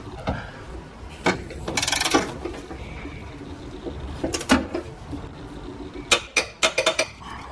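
Torque wrench tightening the motor mount bolts to 35 foot-pounds on a 2012-2019 Ford Focus, with soft mechanical knocks and handling noise giving way to a cluster of sharp ratcheting clicks near the end, close up, with no talk.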